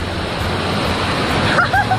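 Marmala waterfall roaring steadily nearby, a loud, constant rush of falling water filling the scene, with a few faint bird chirps near the end.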